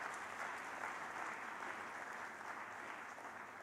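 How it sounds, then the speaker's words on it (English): Audience at a financial services conference session applauds, a steady, even wash of clapping from a large room, fairly distant and faint, sustained without a break. "I don't know whether that clap was to ask me to go off"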